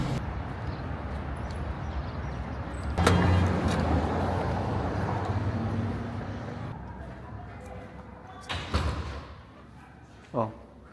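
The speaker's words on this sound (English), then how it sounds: "Found the Lamborghini Huracan." A Lamborghini Huracan in a street in Dubai, with a loud steady engine and traffic rumble that swells and then fades away, followed by a couple of close thumps, with people talking nearby.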